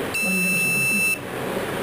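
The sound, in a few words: beep from event automation keypad device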